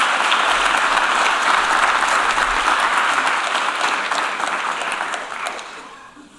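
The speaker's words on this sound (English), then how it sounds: "we want to give Captain Kelly another round of applause for joining" An audience at a space policy day event gives Captain Kelly a loud, sustained round of clapping that holds steady for several seconds, then gradually fades out toward the end.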